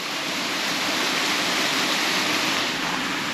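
Ocreza waterfalls rushing in a steady, dense roar of falling water, loud and close, with no break or change across the whole stretch.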